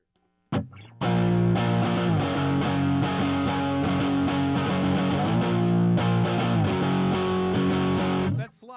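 Electric guitar played with distortion and a slide sustains a thick, buzzing chord for several seconds, pitches gliding and wavering before it cuts off abruptly; no talking over it.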